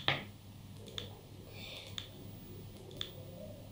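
Sharp ticking pulses from a watch-setting app's time signal on a speaker land about once per second, four in all, bright and clipped over a low steady hum.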